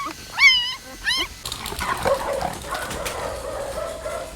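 Dogs of a female pack give two sharp, rising yelps close by, followed by a steady murmur of softer whines and background noise.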